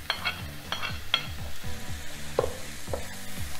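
Zucchini hits a pan of frying vegetables already cooking with carrot, setting off a lively sizzle broken by quick stirring scrapes and utensil clinks, close and steady with no voices.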